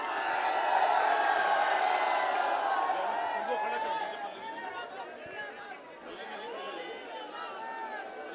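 A large outdoor crowd at a political rally in Kaushambi, waiting to hear MP Jaya Bachchan, keeps up a loud, steady babble of chatter and calls. The noise eases somewhat halfway through.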